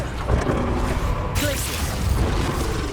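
Bombarda blasting spell bursting in Hogwarts Legacy combat, a dense rumbling blast with a sharp crackling onset midway, layered over continuous game noise and low booming.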